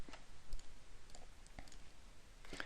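Faint, sparse computer mouse clicks select a file, single soft clicks spaced apart in a quiet room.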